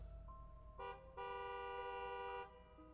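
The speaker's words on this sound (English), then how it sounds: "when I heard a car horn that I got up" A car horn sounds in two steady tones, first a short blast and then a longer one lasting more than a second, fairly faint over a low background rumble.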